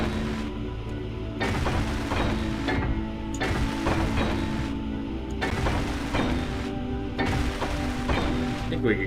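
Repeated block welding in the game Space Engineers, a loud droning mechanical buzz with rhythmic crackling bursts that pulse in and out while someone talks over it.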